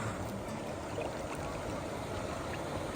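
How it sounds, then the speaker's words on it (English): A small waterfall spills into a lower pond, giving a steady, soft rushing wash of flowing water with no voices over it. "And then you go down here and they have a little waterfall."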